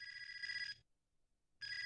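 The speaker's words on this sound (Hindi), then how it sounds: "फोन मत उठाना" An electronic telephone bell rings in two bursts separated by a pause, bright and steady, with no other sound in between.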